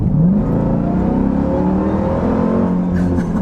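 A 2025 Dodge Durango Hellcat pulls hard in a rolling acceleration, its engine roaring loud and close with the supercharger whine rising in pitch throughout.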